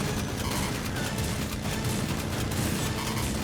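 Rapid retro-style shotgun blasts and gunfire in the 2D game Terminator 2D: No Fate, a dense, loud barrage of overlapping shots filling the whole stretch.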